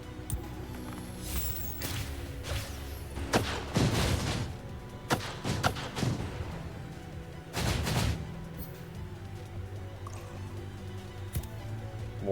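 Gunfire from the video game Honkai Impact: scattered sharp shots and short bursts ring out over a low game background, some clustered near the middle, with no talking.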